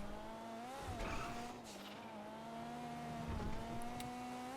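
Cars in GTA 5 drive and skid: a steady, close engine drone with changing pitch runs throughout, broken by squealing tires around the one-second mark and again near three and a half seconds.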